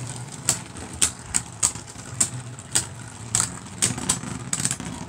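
Beyblade spinning tops battling in a Cross Collision stadium, a steady whirring hum broken by about a dozen sharp metallic clacks as the tops collide at irregular intervals.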